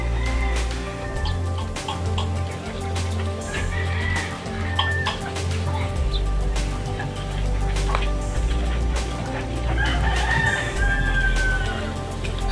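Several roosters crow repeatedly, some near and some farther off, over a steady low background hum with occasional clucking.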